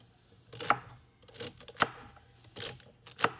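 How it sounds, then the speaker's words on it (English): Knife dicing celery stalks on a cutting board for soup, a series of sharp, crisp chops in irregular clusters, close and clear with no talking. "Next, I'll dice up the celery."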